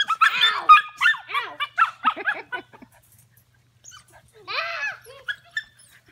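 Young puppies about eight weeks old whimper, yip and bark in quick high bursts close by, going quiet for a moment before another run of squeaky yelps.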